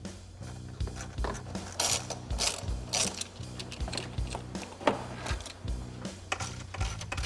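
A ratchet wrench clicks in quick, uneven bursts while bolting a cold air intake onto a Chevy C1500 pickup during an EFI conversion, close and crisp with clanking metal in between.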